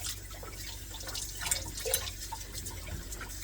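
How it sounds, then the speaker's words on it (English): A cutting board is rinsed under a running tap while quail are being cleaned, giving a close, continuous patter of water with scattered drips and splashes and no talking. "I'm just rinsing off my board a little bit because I just like a little bit of a clean area to work with"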